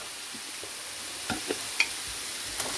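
Vegetable broth being stirred with salt, a soft continuous hiss broken by a few faint, separate spoon clinks and scrapes spread over a few seconds, quiet and close with no voices.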